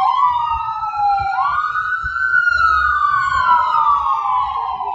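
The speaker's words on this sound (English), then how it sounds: "A siren screams down Tuolumne Boulevard." An emergency siren wails loudly down Tuolumne Boulevard beside a baseball field, its pitch sweeping up and down in a continuous cycle that stays close and clear over faint background noise.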